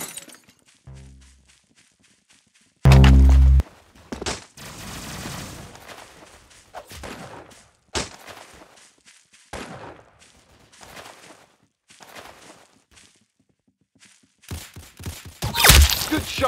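Video game gunfire arrives as scattered sharp bursts, with one heavy blast early and a dense loud volley at the close, separated by quieter gaps that hold faint steps.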